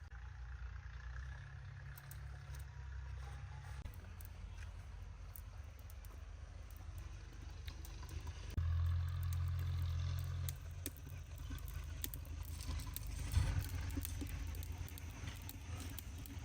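Tractor engine running in fields during wheat sowing season, a low, steady mechanical drone that stays faint and distant throughout, growing slightly louder in the second half.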